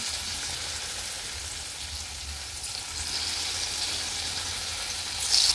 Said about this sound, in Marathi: घोसाळ्याचे काप जे आहेत ते मी बुडवून घेते आणि एक एक एक एक तेलामध्ये सोडून द्यायचं आहे